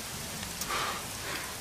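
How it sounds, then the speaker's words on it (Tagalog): Rain falling steadily on a surface, a soft continuous hiss with faint scattered drops, fairly quiet and with no voices. "Paulan-ulan pa kasi."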